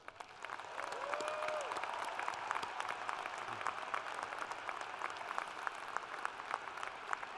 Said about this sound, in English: Please join me in showing our appreciation with a round of applause for all of their efforts.